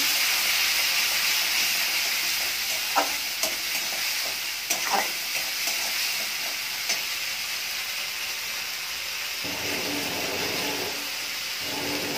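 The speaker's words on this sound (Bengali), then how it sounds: "দিয়ে দিচ্ছি বেটে রাখা মশলাগুলো। এবার মশলাটা আমি ভালো করে কষিয়ে নেব।" Ground spice paste sizzles steadily in a hot pan while a utensil stirs it with intermittent scrapes and clacks, near and continuous, without speech.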